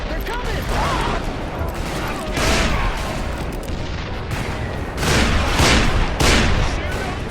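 Rifle gunfire and booming volleys in the Western shooter game Call of Juarez: Bound in Blood, loud and continuous with dense overlapping shots and heavier bursts in the second half.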